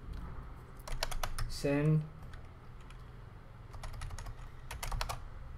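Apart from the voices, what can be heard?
typing a command on a computer keyboard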